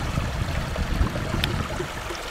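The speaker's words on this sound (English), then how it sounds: "Do you hear any of that water sound?" Spring snowmelt water rushing out of a culvert at the end of a muddy gravel driveway, a steady close babbling trickle and gurgle with no voices.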